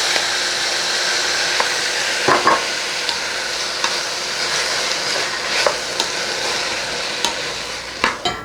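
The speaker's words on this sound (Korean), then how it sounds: "채 썰어 놓은 감자를 넣어서 볶아줍니다" Thick-cut julienned potatoes stir-frying in a small amount of cooking oil, giving a continuous bright sizzle with occasional scraping and tapping of a spatula against the pan.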